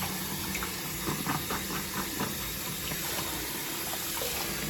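Tap water runs steadily while the parts of an Omega 8006 juicer, including its pusher, are rinsed off, a constant hiss with faint clinks and knocks of plastic pieces in a sink.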